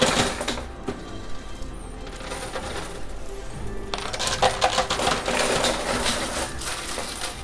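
Coins clatter and drop continuously in a high limit casino coin pusher machine, dense metallic jingling and sliding with sharper bursts of cascading coins, loud and close.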